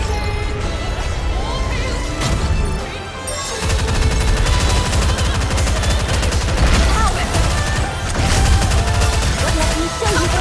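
Dense gunfire and rapid machine-gun bursts from the game NIKKE during a solo raid boss fight, loud and sustained across the whole stretch with a brief dip midway, mixed with game effects and some voice.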